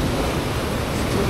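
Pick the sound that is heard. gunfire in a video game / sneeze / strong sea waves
strong sea waves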